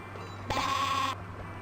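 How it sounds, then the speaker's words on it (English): Sheep bleating in the video game Spy Fox 2, one short wavering bleat of about half a second sounding over a steady low game hum, with no talk. "Stereo sheep."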